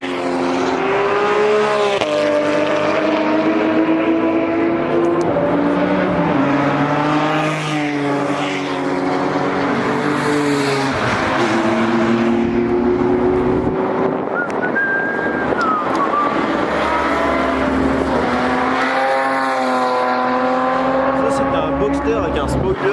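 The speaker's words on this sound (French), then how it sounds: "on va retourner filmer les GT3 qui sont en train de tourner." Porsche GT3 race cars lap a track, engines rising and falling through gear changes as the cars pass in succession, loud and continuous under gusting wind noise.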